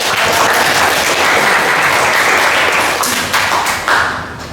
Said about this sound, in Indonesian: terima kasih tepuk tangan buat Mbak